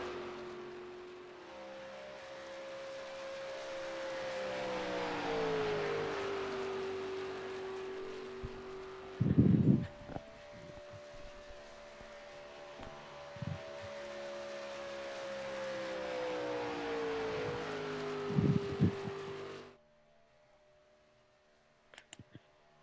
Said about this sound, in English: Cars heading down the back straightaway.